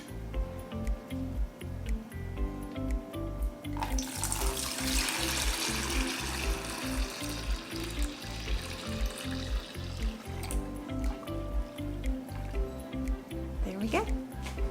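Party punch is poured carefully into a container, a steady liquid trickle and splash close by, running over a rhythmic musical backing, with a voice talking at times.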